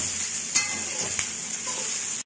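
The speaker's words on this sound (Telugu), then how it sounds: "అందులో ముందుగా వండిపెట్టుకున్న అన్నాన్ని కూడా వేసుకుందాం ఒకసారి అంతా బాగా కలిసేలాగా మిక్స్" Cooked rice being stirred into lemon rice in a hot pan, with a steady sizzle and frying hiss throughout and a couple of sharp scraping clacks of the spoon against the pan.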